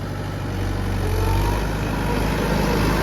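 A tractor engine idles with a steady, loud low rumble that stays even throughout, close by with no talking.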